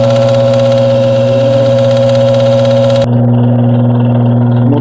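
Washing machine motor running loud and close with a steady tonal hum, then an abrupt change partway through as the higher noise drops away and the lower drone continues.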